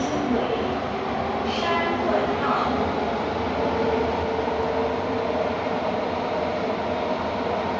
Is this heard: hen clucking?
no